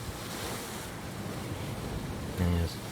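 Steady ocean surf rolls through the seaside setting of the video game Far From Noise, a continuous wash of waves with wind at moderate loudness, briefly swelling near the end.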